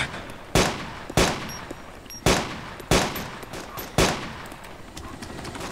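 Six sharp gunshots ring out in DayZ, spaced irregularly about a second apart, loud and close with short decaying tails, no talking over them.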